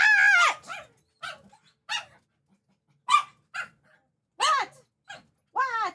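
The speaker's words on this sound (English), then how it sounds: "Why are you barking at me?" A dog in a Resident Evil dating sim video game barks repeatedly in sharp, clear, separate bursts with short gaps between them, close and loud, with no other sound around it.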